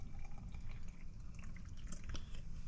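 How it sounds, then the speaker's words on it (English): Water poured into a jar of scraped cucumber seeds and pulp, a soft close trickle and splash with light dripping, faint and steady without talk. "we're going to go ahead and add some water"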